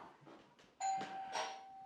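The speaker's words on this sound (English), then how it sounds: "ring the bell" A doorbell rings with a clear ding-dong chime during dog training at the front door, bright and fairly close, with quiet shuffling before it and no speech.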